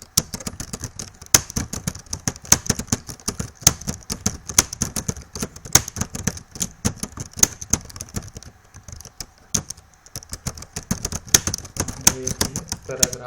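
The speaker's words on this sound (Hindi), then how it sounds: "मैं कुछ टाइप कर रहा हूँ" Computer keyboard typing in a word processor, a steady run of quick, close key clicks with brief pauses, fairly clear and continuous throughout.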